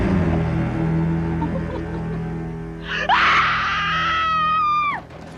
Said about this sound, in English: And the scream after that, it just chilling.